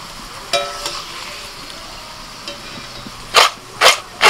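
Crispy homemade potato chips being tossed with spice masala, scattered light rustling followed by three loud, close crunchy shakes near the end, no voices.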